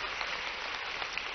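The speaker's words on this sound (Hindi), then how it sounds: "जोरदार ताली बजाओ भाई" An audience at an agricultural innovation dialogue with students and experts claps steadily, a dense, even wash of applause throughout with no talking.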